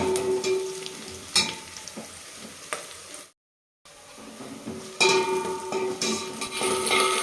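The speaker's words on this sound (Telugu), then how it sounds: "ఆవాలు జీలకర్ర ఉల్లిపాయలు కలిపి ఫ్రై చేసుకుంటే మంచి అరోమా వస్తుందండి" Mustard seeds, cumin and onions fry in hot oil for a tempering, a close, crackling sizzle with sharp pops and stirring scrapes, briefly cut to silence midway before sizzling loudly again.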